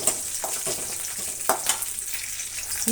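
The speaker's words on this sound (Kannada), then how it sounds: "ಈಗ ಅದರ ಜೊತೆಗೇ ನೋಡಿ ಮೂರು ಹಸಿಮೆಣಸಿನ್ಕಾಯಿ ತುಂಡು ಮಾಡಿರೋದನ್ನು ಹಾಕ್ತಾಯಿದ್ದೀನಿ ಫ್ರೈ ಆಗಲಿ ಎಲ್ಲನೂ" Cut green chillies fry in hot oil in a pan for a brinjal gravy, giving a steady close hiss with a few sharp spattering pops and light stirring scrapes, without any talk.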